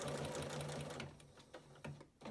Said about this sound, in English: we're going to backstitch 4 or 5 times